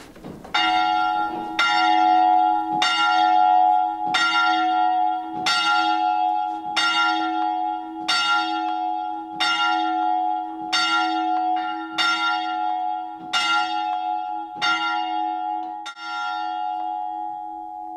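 A large bell tolls twelve slow, evenly spaced strikes, each ringing out and fading under the next, loud and resonant with no talking.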